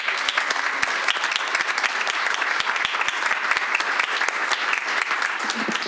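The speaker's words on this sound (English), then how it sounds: "so we can give you a round of applause" An audience at a board meeting applauds for several seconds, a steady wash of many hands clapping at close range, with no words spoken.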